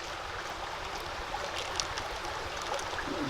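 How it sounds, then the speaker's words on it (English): Warm water from a tea kettle pours onto dehydrated chicken madras at a woodland wild camp, making a steady, continuous trickle at close range with no talking. "A little bit of my warmer water from my tea."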